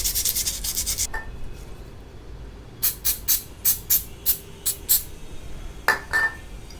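Cloth rubbing clean a part of a Roots Vibrosonic horn, close squeaky strokes, first a quick run of rubs, then a pause, then about eight evenly spaced rubs and a final pair.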